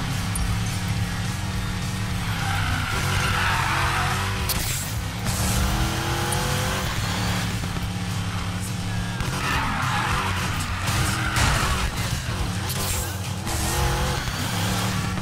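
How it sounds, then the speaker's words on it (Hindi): A car in the Need for Speed Payback racing game drives hard with tire squeal and engine roar, forming a loud, continuous, dense wash of racing sound with no break. "ओके 10 किलोमीटर्स तक मुझे राइड करना है इसी कार से।"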